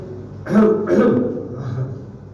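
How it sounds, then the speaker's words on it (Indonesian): A man clears his throat twice in quick succession in a mosque setting, close and fairly soft, followed by a faint low murmur. "ucapan dehem itu yang kita lakukan untuk melenggangkan tenggorokan supaya lancar baca"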